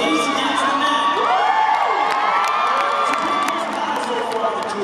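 An excited audience at a ladies-against-men dance-off cheers, whoops and screams loudly, with high shouts rising over a continuous crowd roar.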